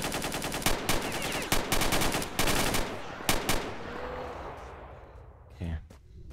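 Rapid gunfire in the video game STALKER: Shadow of Chornobyl, loud repeated bursts of shots with a few gaps, fading into echoing tail, with a voice speaking briefly between.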